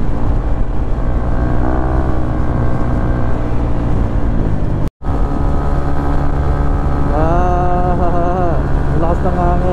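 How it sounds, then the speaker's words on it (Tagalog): Strong wind buffets a microphone on a motorcycle riding a wide road toward Pabinti, Laguna, a loud continuous roar mixed with steady engine drone, briefly cut out midway, with rising engine tones near the end. "Lakas ng hangin."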